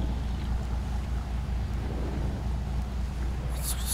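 A boat engine from the War Thunder video game drones steadily and loudly throughout, with a low rumbling hum, some wind-like noise on top and a brief hiss near the end.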